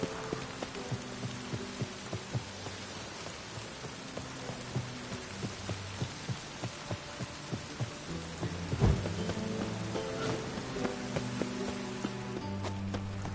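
Steady patter of rain in The Witcher 3 on PS4, with a rhythmic clip-clop of hooves, a sharp thunder-like crack partway through, then continued downpour.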